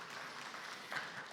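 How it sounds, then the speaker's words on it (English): A short, faint patter of audience clapping at an agricultural conference session, with no voices over it. "Round of applause for him, please."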